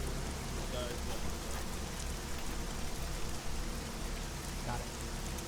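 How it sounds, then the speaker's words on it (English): Steady rain hisses across an outdoor battlefield in the Arma 3 video game during a platoon training session, a dense continuous wash of drops with faint voices barely audible beneath it. "Hey, it's raining."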